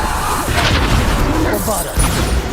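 Bombarda spell explosions from the Hogwarts Legacy video game, dense booming blasts and crackling debris layered under a shouting voice casting spells, loud and close.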